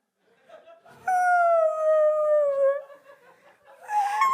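An audience voices a drawn-out, sliding moan imitating a sad whale, one long wavering wail that falls slowly before tapering off, followed by scattered laughter and murmuring.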